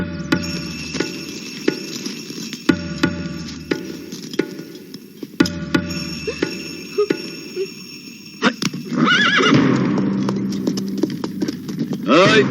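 Hooves of a horse hitched to a cart clip-clop in a slow, regular rhythm of sharp knocks, with insects buzzing in the background and a louder burst of rustling noise near the end.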